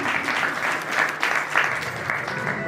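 Audience at a Hindu religious discourse on the Shrimad Bhagavat Katha giving a loud round of applause, dense continuous clapping with slight surges in intensity, near and full throughout.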